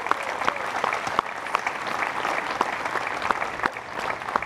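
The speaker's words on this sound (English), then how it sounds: "let's have a big round of applause for that" A crowd at a library event applauds the celebration of a new Veterans Memorial, steady close clapping with distinct individual claps popping out above the general wash.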